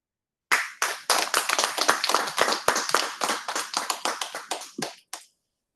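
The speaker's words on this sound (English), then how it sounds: "they deserve another round of applause" A meeting audience at a Toastmasters club claps for the speakers. The applause is close and fairly loud and lasts about five seconds, a dense patter of individual claps that fades out near the end.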